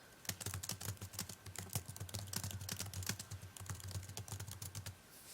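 Rapid, irregular keystrokes on a computer keyboard while text is entered into an online whiteboard, close and steady for about five seconds with no voices.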